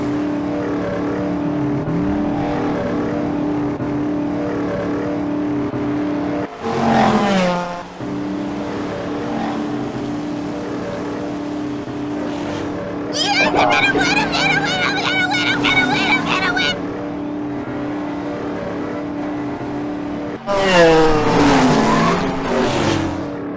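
Race cars speed past in an animated candy-themed kart race, engines whining in bursts with tire squeals and skids, loud bright passes around 7, 13 to 17 and 20 seconds over a steady music-like bed.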